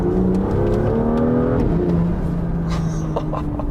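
A BMW M2 engine revs and accelerates loudly from inside the car, its rising pitch sweeping upward in a few steady pulls, with no one talking.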